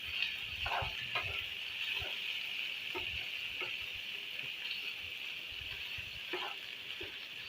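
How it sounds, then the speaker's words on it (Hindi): Chicken liver and onions frying in a pan, a quiet, steady sizzle with occasional soft stirring knocks. "अब कलेजी को मैं इतना फ्राई करूँगी कि इसका कलर चेंज हो जाए।"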